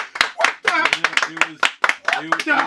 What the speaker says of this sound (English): I think we need to give a round of applause to that.